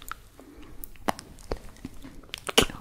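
A small vitamin D tablet is chewed up close, with scattered crisp crunches and clicks that build to a louder crunch near the end against a quiet room.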